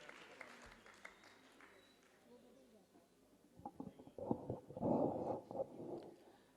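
Applause from a mushaira and kavi sammelan audience welcoming poet Dr. Majid Deobandi builds in the second half, rising from faint crowd noise into a dense, loud burst of clapping.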